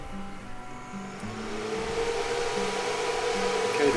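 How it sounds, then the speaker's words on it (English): A Mitsubishi Freqrol A500 inverter drive powered with 380 volts three-phase as its cooling fan spins up, a rising whir that grows steadily louder over a low electrical hum. "the cooling fan spun up, that's good"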